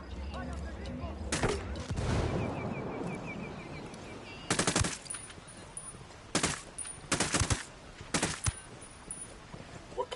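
Bursts of automatic gunfire in the tactical shooter game Ghost Recon Wildlands, with several separate loud volleys fired in quick succession over a steady rumble of background noise.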